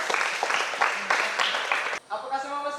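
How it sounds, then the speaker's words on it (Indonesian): Students in a physical education class clap their hands in quick rhythmic bursts for about two seconds before a voice speaks. "Tepuk tangan dulu untuk"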